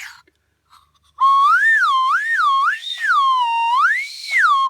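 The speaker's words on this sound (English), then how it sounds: "So let's blow this whistle and see how that mechanism affects the sound" After a short pause, a shrill whistle sounds continuously, its pitch warbling up and down in smooth waves for several seconds, loud and close.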